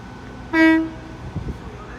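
A departing Great Western Railway Intercity Express Train at Exeter St David's sounds a single clear horn blast of about half a second, loud and tonal, followed by faint station rumble.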